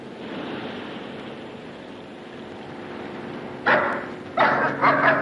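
A dog barks twice near the end, sharp and fairly loud, after a stretch of steady wash like surf or a boat in the background.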